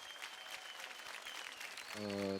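Studio audience clapping on a Marathi televised dance competition show, a short steady round of moderate applause, with a held musical chord coming in at the end.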